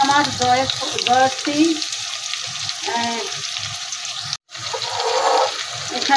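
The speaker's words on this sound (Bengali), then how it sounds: "দিয়ে দিচ্ছি একটু পেঁয়াজ বাটা" Onion paste dropped into hot oil for a spicy village-style rooster curry: a loud, close, crackling sizzle that surges and fades in waves, broken by one brief cut, with a voice talking faintly underneath.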